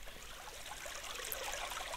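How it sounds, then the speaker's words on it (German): Continuous rushing water flows through a cave in the Minetest video game, a steady, fairly quiet wash of sound with no voices over it. "Da ist Wasser."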